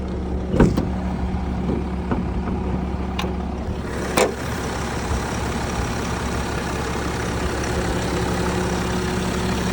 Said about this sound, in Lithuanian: Variklis dirba tvarkingai, be kažkokių papildomų garsų po šalimi.